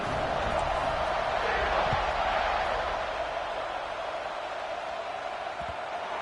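Large football stadium crowd at a college game between Auburn and Penn State, a steady loud roar of cheering and noise building at kickoff, dense and continuous throughout.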